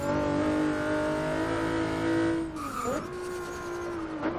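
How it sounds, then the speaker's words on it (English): A race car on a practice lap holds a loud, steady engine drone near redline, then drops sharply in pitch on a downshift and settles into a lower, rising tone, close and continuous with no voices. "Love that downshift."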